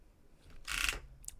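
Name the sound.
keyboard being moved on a desk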